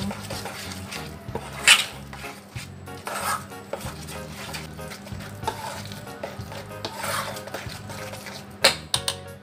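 A spoon scrapes and clinks against a bowl while a thick potato popcorn mixture is stirred, with irregular knocks and a couple of sharper taps.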